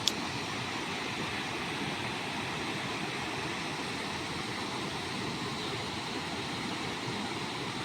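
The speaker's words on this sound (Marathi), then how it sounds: "इथे पाण्याचा आवाज, धबधब्याचा." A waterfall and flowing water of the Krishna river near Soneshwar temple give a steady, broad rushing wash, continuous and moderately distant, with no talk.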